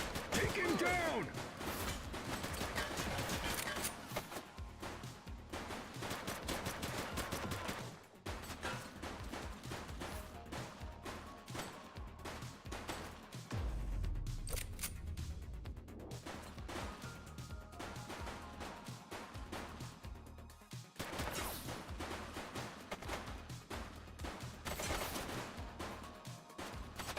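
Gunfire in the video game The Precinct comes as dense, rapid volleys of shots and bursts that crack repeatedly and almost without pause through a long stretch of loud, busy game sound.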